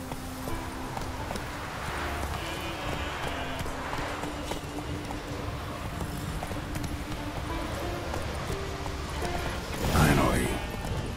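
Roach, a horse in The Witcher 3, galloping with a steady rhythmic clip-clop of hooves under ambient game sound, followed by a brief louder swell near the end.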